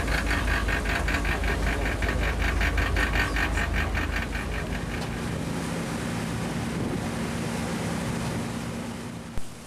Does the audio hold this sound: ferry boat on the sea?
yes